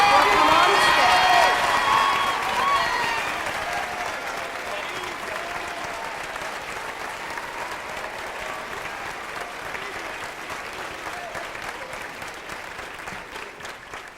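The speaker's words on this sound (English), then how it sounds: "would all the teachers from District 4 please rise for a round of applause?" At a 1995 district chorus event, an audience gives the District 4 teachers a long round of applause that starts loud with a few cheers, then settles into steady, slowly fading clapping across a large hall.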